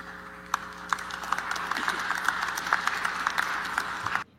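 Modest, somewhat hesitant clapping from an audience at a crypto and Bitcoin event, a steady patter of hands with a few sharper individual claps, ending abruptly.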